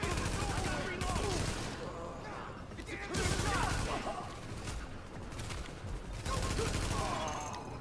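Rapid G36 assault rifle fire in The Division, dense bursts of automatic shots in sustained volleys with short pauses, loud and close, with game voices mixed in.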